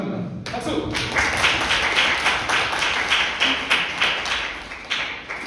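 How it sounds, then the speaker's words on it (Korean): An audience at a university airline service department lecture on becoming a flight attendant breaks into applause, a dense run of claps that swells and pulses for several seconds with voices mixed in. "박수!"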